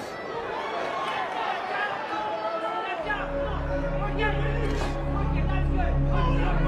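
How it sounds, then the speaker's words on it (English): Boxing crowd at a sold-out arena in Dallas, Texas, a steady roar of chatter and murmur that swells midway, heard under a commentator's voice. "This crowd's still buzzing."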